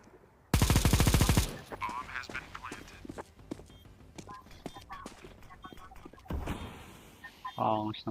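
Video game gunfire bursts loudly in a rapid automatic stream, followed by scattered clicks, shots and game effects, with players chattering over the action.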